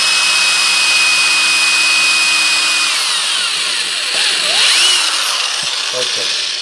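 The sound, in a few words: drill bit drilling a hole in a guitar body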